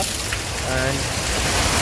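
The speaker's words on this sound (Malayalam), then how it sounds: "അയ്യോ മഴ, ഹെവി മഴ കേട്ടോ" Heavy rain pours down near Kuttikkanam, Kerala, in a dense steady hiss, with a voice speaking briefly over it.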